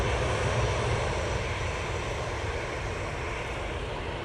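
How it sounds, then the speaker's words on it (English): An Airbus A380 airliner takes off from Manchester Airport bound for Paris, a loud, broad engine roar that holds steady throughout, with no voices over it. "Just off to Paris Charles de Gaulle Airport using the A380-200."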